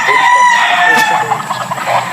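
A game fowl rooster crows loudly and close by on a game farm in Tanauan, Batangas, one drawn-out call with other fowl clucking faintly around it.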